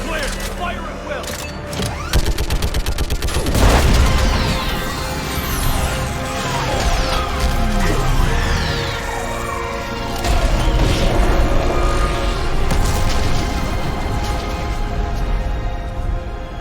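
Gunfire and an orbital strike hit a live Reaper in Mass Effect 3, a dense, loud barrage of crashing blasts, booming impacts and mechanical roars running continuously throughout, with voices talking over the combat.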